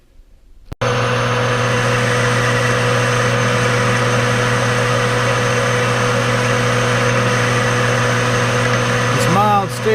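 A Jet lathe turns down a mild steel part, a steady loud machine drone with constant tonal hum running throughout after a brief quiet start.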